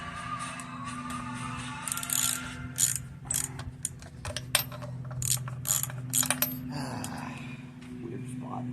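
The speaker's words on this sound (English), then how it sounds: "I'm going to have to use a wrench for this." A ratchet wrench tightens intake manifold bolts on a 305 engine in a 1970 Chevy Monte Carlo, with repeated quick clicking bursts of the pawl, close and moderately loud over a low hum, with someone speaking intermittently.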